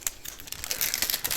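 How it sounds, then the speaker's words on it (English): Plastic packaging from a diamond painting kit crinkles close up in a continuous stream of small crackles and rustles. "I'm sorry about the noise, the crinkling noise."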